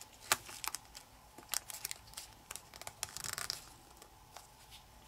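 Paper being folded and creased for an origami praying mantis, with crisp crinkling and rustling bursts in irregular bursts, fairly close and without talk.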